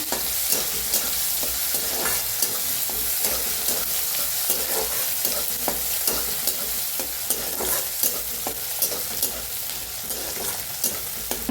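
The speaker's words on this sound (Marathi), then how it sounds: "त्याच्यात टाकूया हिरवी मिरची लसूण चिचून घेतलाय बघा खलबत्त्यात छान असं भाजून घेऊया" Green chili and crushed garlic roasting in a hot pan with curry leaves and onion, a continuous bright sizzle broken by regular scraping strokes of a stirring spoon, close and fairly loud, with no talking.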